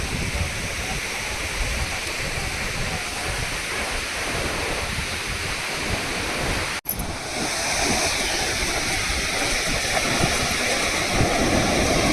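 Roaring sea surf near the Gateway of India, Mumbai, fills the clip, a continuous rush of breaking waves heard up close, with a brief dropout midway and no clear speech.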